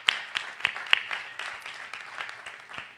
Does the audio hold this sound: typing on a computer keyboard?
no